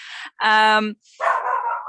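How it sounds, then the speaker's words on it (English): A pet dog gives a few close, loud barks and yelps indoors, one long harmonic yelp between two rougher noisy barks. "I'm just going to drop my dog quick because he's being a bit naughty."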